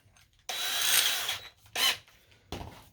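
A power drill fitted with a 1 1/8 inch hole saw whirs in three short bursts of varying length, loud and close, with a rasping edge and no talking.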